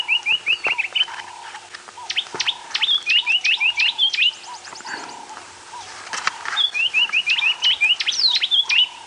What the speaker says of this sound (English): the robin is so close by and so loud